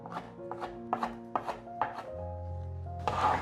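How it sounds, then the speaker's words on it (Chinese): A knife slicing a fresh shiitake mushroom into strips on a cutting board, with about six crisp, evenly spaced chops close by, then a brief rubbing scrape at the end. "把香菇切条"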